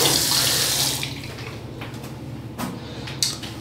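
Water gushes from a tap, loud and close at first, then eases to a softer steady trickle with a few light knocks and splashes of something being rinsed.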